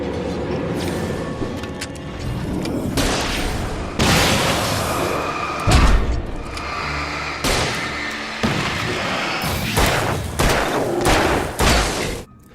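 Gunfire, flare gun and flashbang blasts from combat in the Alan Wake video game, with repeated sharp, loud shots and booms scattered throughout amid a tense background.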